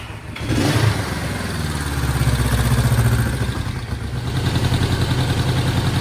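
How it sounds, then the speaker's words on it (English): A Honda CB350 twin motorcycle engine idles steadily nearby, a continuous low, even throbbing chug with a slight mechanical clatter and no voices. "I've got a nice steady idle"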